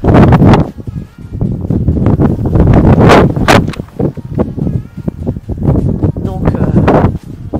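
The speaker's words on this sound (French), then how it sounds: "On est proche de la mer, il y a du vent aujourd'hui." Strong, gusty wind on a windy day near the sea buffets the microphone loudly and continuously with roaring bursts, while someone speaks briefly.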